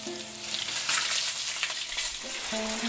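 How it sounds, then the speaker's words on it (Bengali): Tomatoes with black mustard and green chilli paste sizzle and hiss in a wok as they are stirred, with bright spattering bursts and occasional scraping clinks, close and fairly quiet. "এবার দিচ্ছি 2 চামচের মতো কালো সর্ষে আর কাঁচা লঙ্কা বাটা।"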